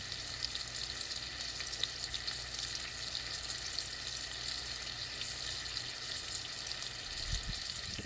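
Hamburger patties frying in a pan over medium-low heat: a steady, fairly quiet sizzle and crackle with small pops throughout and a brief low thump near the end.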